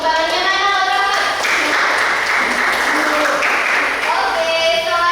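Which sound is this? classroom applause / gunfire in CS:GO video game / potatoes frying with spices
classroom applause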